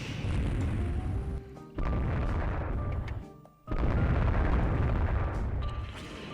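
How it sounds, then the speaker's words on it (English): Heavy booming explosions from torpedo hits on a warship in the Rule the Waves 3 naval game, deep rumbling blasts in several long waves with brief lulls between them. "They hit us with a torpedo."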